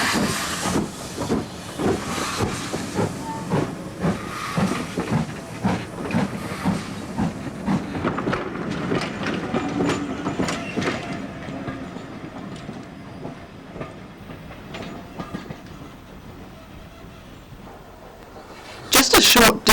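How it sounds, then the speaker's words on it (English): A steam locomotive, a Great Western 46-class built in 1950, rumbles past pulling a train with rhythmic clacking and hissing, loud at first and gradually fading, ending with a brief loud burst of noise. "a Great Western 46 early locomotive, built in 1950, pulls the train"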